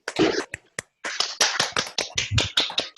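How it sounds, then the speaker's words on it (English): Participants in an online academic seminar unmute and clap for the speakers, producing scattered, uneven claps and taps from several people that overlap irregularly, some louder and closer than others, with no speech. "I would ask everyone to unmute themselves and clap for the speakers."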